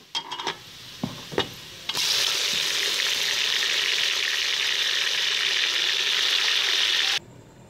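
Masala-coated duck meat sizzles loudly in a pan with onions, a few spoon clanks and stirs at first, then a steady, close frying hiss that holds for several seconds before cutting off.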